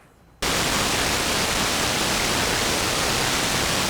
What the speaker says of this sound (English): let's start by listening to the white noise output.